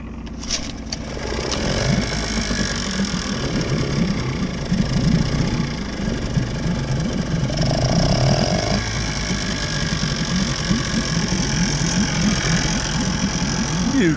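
A small dinghy outboard engine runs steadily after starting, with a close, constant putter and faint knocking at a fairly even idle and no talking over it.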